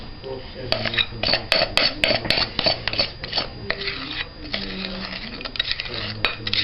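A utensil scoops and scrapes banana bread batter into a standard metal bread pan, giving a run of irregular clinks and scrapes close by under a person talking.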